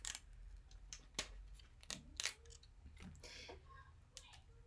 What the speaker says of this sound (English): I'm just going to start peeling it away.